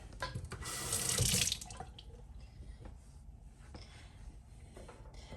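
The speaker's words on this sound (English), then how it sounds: "I'm going to go ahead and rinse it just to make sure I don't have any shells on it." Running water from a kitchen sink tap gushes briefly as a boiled egg is rinsed under it, then settles into light drips and faint trickling, close by and without talk.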